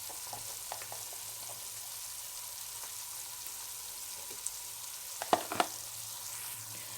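Spices with salt, red chilli, turmeric and curry powder frying in a pan for Lahori-style chana kofta, a steady soft sizzle throughout with a few sharper clicks of stirring near the end.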